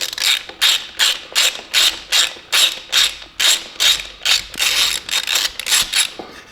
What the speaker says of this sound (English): Now next, I'm going to remove the SAS plate with a T30 Torx